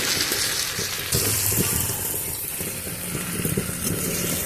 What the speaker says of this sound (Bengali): সমস্ত কিছু ভালো করে নাড়াচাড়া করে মশলার সাথে ভালো করে আরও কিছুক্ষণ দু মিনিট মতো একটু নাড়াচাড়া করে কষিয়ে নেবো